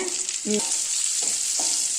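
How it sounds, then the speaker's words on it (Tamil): Steady sizzling of beetroot sautéing in oil fills the background while a few soft clinks of a spoon stirring in the pan break through. "இதை நல்லா வதக்கிக்கணுங்க எண்ணெயில் பீட்ரூட் வந்து நல்லா வதங்கிடணும்"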